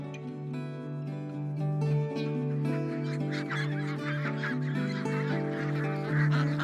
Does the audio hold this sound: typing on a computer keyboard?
no